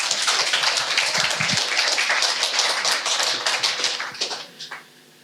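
A church congregation claps together in loud, dense applause that holds steady, then thins into a few scattered claps and fades to quiet.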